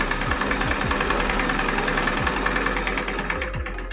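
Sewing machine motor running steadily while winding thread onto a bobbin, a continuous loud mechanical whir with faint periodic ticks, tapering off slightly at the end.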